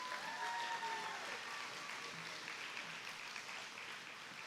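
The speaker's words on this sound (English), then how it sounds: "How about a round of applause?" Applause for county fair queen and princess pageant contestants in evening gowns, a faint, steady wash of clapping from a crowd with a voice talking over the start.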